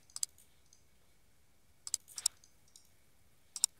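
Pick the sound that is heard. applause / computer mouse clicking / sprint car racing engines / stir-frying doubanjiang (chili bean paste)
computer mouse clicking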